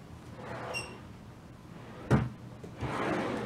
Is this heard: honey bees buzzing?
no